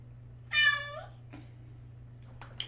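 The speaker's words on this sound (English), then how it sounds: "We got our little kitty friend in here today with us." A pet cat indoors lets out one loud, drawn-out meow close by over a steady low hum, followed by a couple of fainter, shorter sounds.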